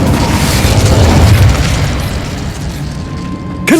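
A Confringo blasting spell explodes in Hogwarts Legacy, a loud, booming burst that rumbles and decays over a few seconds, followed by a brief bright flourish at the end.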